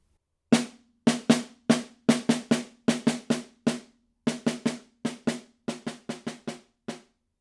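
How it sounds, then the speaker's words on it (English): Snare drum etude passage played alone as a series of crisp, separate strokes and short rolls over about seven seconds, each hit ringing with snare buzz and gradually softening from forte toward piano. "So the decrescendo for measures 13 and 14 will sound like this"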